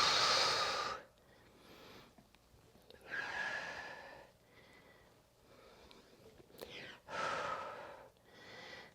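A pregnant woman breathes out hard during prenatal push-ups. Three strong, breathy exhales sound close and airy, each a second or so long, separated by quieter breathing.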